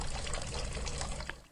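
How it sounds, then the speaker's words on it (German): Water drawn from a well being poured, a faint, continuous splashing trickle that tapers off at the end. "holt Wasser aus dem Brunnen."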